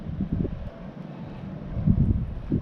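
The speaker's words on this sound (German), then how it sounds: "Und immer noch windig, aber nicht mehr so doll windig." Wind gusting during a blizzard in Ottawa, a steady low rumble of buffeting against the microphone that rises and falls, with stronger gusts near the start and end.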